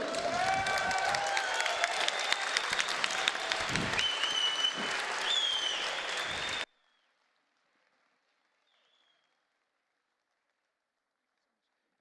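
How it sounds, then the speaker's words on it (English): An audience at the 2016 US Open Table Tennis singles finals ceremony applauds a finalist, with dense clapping and a few cheers for about six seconds before it cuts off abruptly into silence. "Please give a warm round of applause for a great effort from Saki Tashiro."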